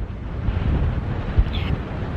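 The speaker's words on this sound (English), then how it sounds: "It is so windy here today." Strong wind buffets the microphone outdoors at a cranberry harvest, a loud low rumbling roar with one sharper gust midway.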